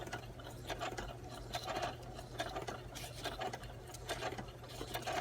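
A sewing machine run without its foot control gives a steady, continuous mechanical whir with a low hum and faint rhythmic patter throughout, with no voices.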